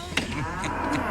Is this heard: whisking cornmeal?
no